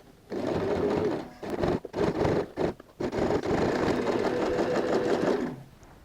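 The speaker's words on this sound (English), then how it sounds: "We have just sewn in on both sides of the bag, the bottom corner." A sewing machine with a size 16 needle stitches through layered denim at a handbag's bottom corner, whirring in fast continuous runs broken by a few short pauses.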